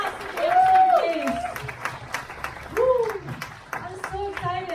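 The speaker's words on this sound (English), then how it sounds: "Give a big hand clap to the" An audience at the Road to Ruby 2019 event claps steadily in scattered applause while a person speaks loudly over it through a microphone.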